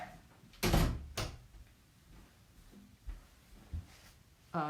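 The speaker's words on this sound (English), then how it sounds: "I gotta close this door" An indoor door swings shut with a solid thump, followed by a second knock and a few quieter bumps and rattles, close by and with no talk over it.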